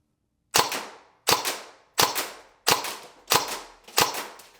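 Six sharp gunshots fired at a target downrange in a slow, even rhythm about two-thirds of a second apart, each a loud crack with a short decaying tail and silence between.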